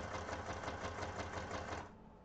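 A tiny sewing machine stitches a zigzag pattern with a rapid, steady, close-up whirring clatter for about two seconds, then stops abruptly, leaving a quiet hum.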